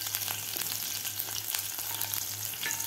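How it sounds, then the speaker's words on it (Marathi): Green chillies with ginger and garlic sizzle and crackle steadily in a pan, a close, continuous frying hiss with occasional sharper pops and stirring scrapes, over a low steady hum. "हिरवी मिरची सुद्धा आपल्याला थोडीशी परतून घ्यायची आहे"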